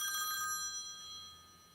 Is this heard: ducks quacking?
no